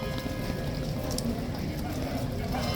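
Heavy rain pelts an umbrella held outdoors in the rain near ceremonial arches, a dense, continuous close-up patter of drops with no break across the whole stretch.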